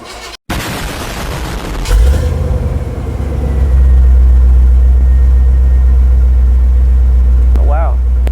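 An old OBS Chevy Tahoe engine cranks over after a brief gap, catches with a loud boom, then settles into a strong, steady rumbling idle that keeps running close to the microphone.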